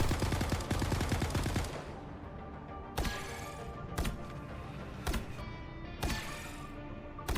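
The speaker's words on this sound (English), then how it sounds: "Bombard mode, fire energy projectiles that deal damage" Rocket Raccoon in Marvel Rivals firing energy projectiles: a loud rapid volley of game gunfire for about a second and a half, then four separate sharp blasts spaced roughly a second apart, each with a ringing tail.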